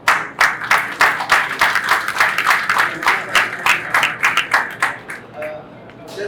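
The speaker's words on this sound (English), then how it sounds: "So for this, I really need to clap." A single person claps steadily and evenly at a semiconductor facility launch ceremony, roughly a dozen and a half sharp claps in a brisk, regular rhythm with a slight room echo.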